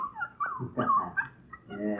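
A collie puppy whimpers and yips in a radio drama, with high, wavering whines repeated across the clip, close and fairly loud, and a voice talking briefly among them.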